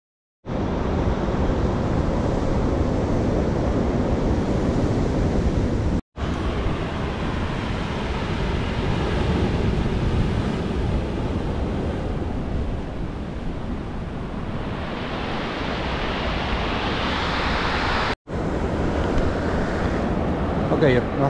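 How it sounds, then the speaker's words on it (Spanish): Rough, choppy sea surf breaking along the shore at Miraflores, a loud continuous wash of waves mixed with steady wind buffeting the microphone, broken by two brief cuts. "El mar está un poquito bravo, ¿eh? Está un poco bravo, un poquito picado actualmente."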